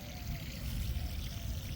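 Water sputters and pours from a homemade HVAC subcooler fitted with a flow control valve: a steady, close, low gushing trickle with no voices.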